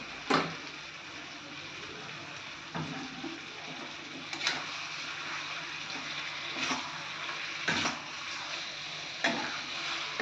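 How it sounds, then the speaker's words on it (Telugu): Spices and coconut paste frying in a pan for chicken fry, with a quiet, continuous sizzle broken by occasional sharp clicks and scrapes as the mixture is stirred, close but faint, with no voices. "ఇప్పుడు ఇందులోకి కొబ్బరి పేస్ట్ వేసుకుందాం. దీన్ని బాగా ఫ్రై చేసుకోవాలి."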